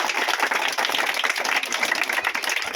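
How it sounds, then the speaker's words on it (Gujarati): A school audience claps at a classroom event featuring local tradespeople, producing a steady, dense burst of applause from many hands that fills the whole moment. "એમને આપણે જોરદાર તાળીઓથી વધારી દઈએ"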